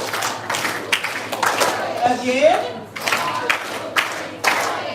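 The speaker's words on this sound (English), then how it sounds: "Give yourself a short point clap." Short bursts of audience clapping at a primary school public speaking competition in Dominica, several quick rounds of claps breaking up talk over a microphone in a hall.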